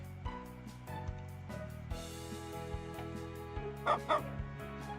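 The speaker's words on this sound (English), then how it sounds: "The puppy on Crumb's shoulder greets her back with a bark." A puppy in the video game Carpe Diem gives two quick barks near the end, over soft background music with a sustained tonal melody.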